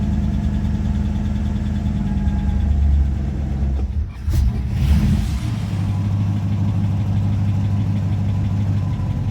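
A 1964 Buick LeSabre engine with a carburetor in need of adjustment runs roughly and is held up with the throttle. A steady loud drone briefly drops out before revving back up and settling into a lower idle.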